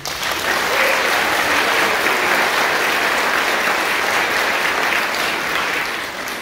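A live music venue audience gives a loud, full round of applause, dense crowd clapping sustained evenly for several seconds and tapering slightly at the end.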